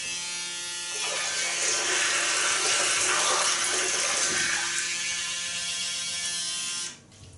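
A Braun 7865cc electric shaver buzzes while being rinsed under running tap water, a steady whirring hum mixed with splashing water that cuts off abruptly near the end.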